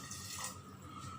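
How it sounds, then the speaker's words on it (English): Water poured from a glass into a pressure cooker while making dal khichdi, a soft continuous splashing trickle, faint and close, with no voices. "I'll just add a little bit of water."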